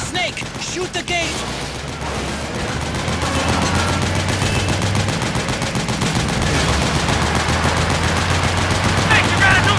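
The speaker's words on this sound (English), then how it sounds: "Shoot the gate!" Gunfire at a gate in the video game Metal Gear Solid 4 rattles as a continuous loud stream of automatic shots, with a low rumbling engine-like drone beneath, voices briefly heard near the start.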